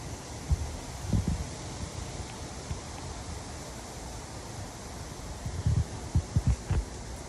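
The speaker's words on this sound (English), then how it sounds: "Y'all hear the wind." Wind blows through moving leaves outdoors, a steady soft rushing hiss broken by a few low buffeting gusts on the microphone.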